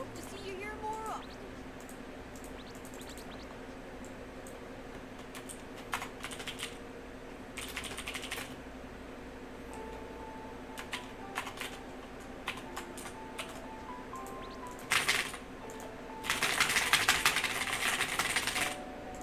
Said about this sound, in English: Who doesn't love the keyboard smashing passwords?